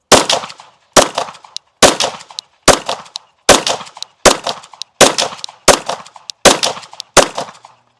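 Handgun rounds of Pilgrim and Hornady ammunition fired at an outdoor range, ten loud sharp shots at an even pace about one per second, each with a short ringing decay.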